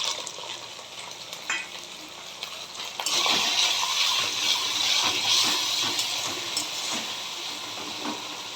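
Tomato added to whole cumin, dried chilli, bay leaf, hing and ginger paste frying in a pan for niramish echor; a soft sizzle bursts into a loud steady hiss midway, with stirring clicks.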